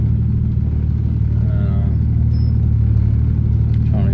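A Nissan Patrol with a Barra engine and a new turbo drives along, giving a steady, close engine drone and low rumble with a faint whistle rising briefly over it.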